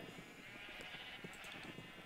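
Sheep bleat repeatedly on a video game sheep farm, several short overlapping calls over a steady ambient bed, fairly close and moderately loud, with no talking.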